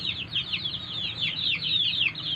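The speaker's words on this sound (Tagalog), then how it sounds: "Mga manok daghan." Chickens clucking busily close by, a steady stream of overlapping squawks and clucks from several birds with no one talking.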